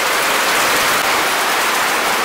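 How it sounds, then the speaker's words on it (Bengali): Heavy storm rain pours in a village, a loud dense unbroken hiss of drops hammering down, steady and close for the whole stretch with no voices. "অনেক জোরে বৃষ্টি নেমে গেছে"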